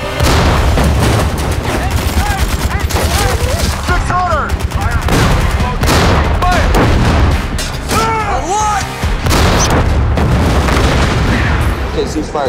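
Tank and anti-tank guns trading fire in a World War II battle, with repeated loud booms, explosions and rattling gunfire layered over dense noise, and shouting voices mixed in throughout.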